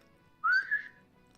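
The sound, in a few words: voice imitating a whistle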